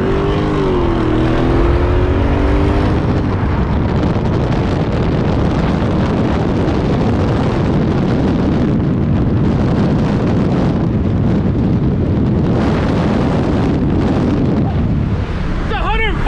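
A tuned Dodge Challenger Scat Pack with the 392 engine roars continuously at full throttle, a loud, sustained launch with heavy wind buffeting, and revs climbing at the start.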